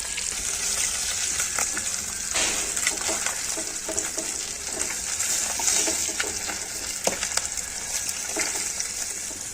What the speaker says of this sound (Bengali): এবারে মাছগুলো ভাজা হয়ে গেছে, এবারে আমি তুলে নিচ্ছি এক একে করে।